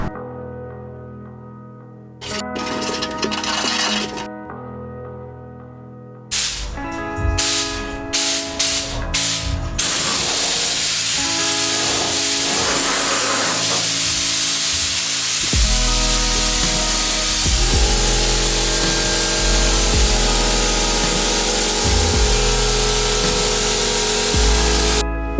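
Spray painting parts from a Datsun 240Z engine bay: a few short bursts of hissing spray, then one long continuous hiss that runs to the end, with a steady tonal hum underneath.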